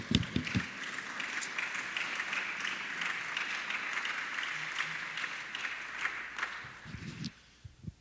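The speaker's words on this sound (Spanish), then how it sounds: "Denle un aplauso al Señor mientras tomo agua." Church congregation at a Zoe Iglesia service claps steadily for several seconds, a broad roomful of hands at moderate distance, with a few sharper claps at the start and the applause fading out near the end.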